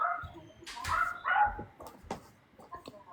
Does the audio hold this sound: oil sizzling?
no